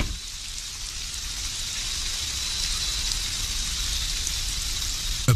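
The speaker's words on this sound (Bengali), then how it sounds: "বৃষ্টি কমতে শুরু করেছে" Rain in a Bengali cartoon falls as a steady, even hiss of dense drops on surfaces, with no talk and a brief knock at the end.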